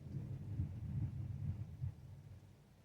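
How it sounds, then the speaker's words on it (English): A thunderstorm rolls through, giving a low, muffled rumble of thunder that swells and fades over a few seconds, heard from indoors with no talking. "we've got a thunderstorm rolling through"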